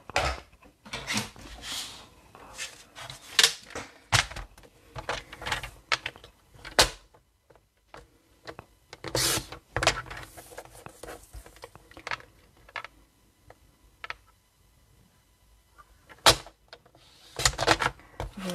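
A stamped paper label for a Stampin' Up card project is cut by hand, with sharp irregular snips and crisp paper clicks in close bursts separated by quiet pauses.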